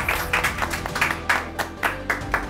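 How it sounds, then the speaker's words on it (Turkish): A small group of dinner guests on a TV cooking competition claps to welcome a guest, the close, uneven claps coming in scattered bursts rather than a sustained roar. "Alkışlarla alıyoruz kendisini."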